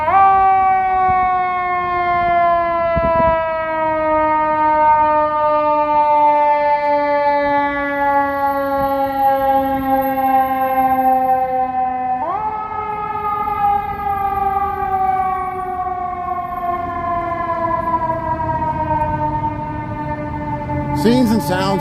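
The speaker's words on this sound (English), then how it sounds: "Oh, the sirens." An ambulance siren wails loudly and close by on Michigan Avenue in Chicago, its pitch falling slowly, jumping back up partway through, then falling again over city street noise.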